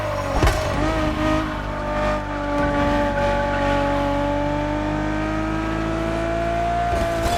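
Ferrari Enzo supercar in The Crew Motorfest, a high-pitched engine note holding a steady, sustained whine that climbs slightly, with tire noise and no talk.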